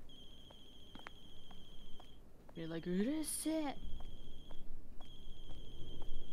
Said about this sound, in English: That's a loud ass fucking phone.